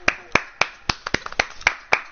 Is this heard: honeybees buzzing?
no